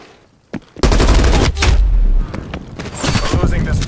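A frag grenade blast in the video game Black Ops Cold War, a loud heavy boom erupting amid dense rapid gunfire that keeps roaring for several seconds.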